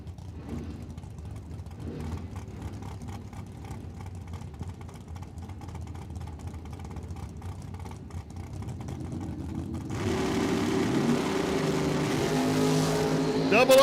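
An El Camino drag car at a BOP Nationals event at Cordova Dragway roars loudly from about ten seconds on, its engine rising over steady crowd and track noise, with an announcer talking throughout.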